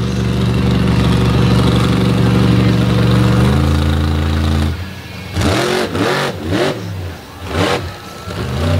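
The Torque Ram monster truck engine idles with a steady, harmonic drone, then revs hard in several rising and falling bursts, loud and close, at a beach monster truck show.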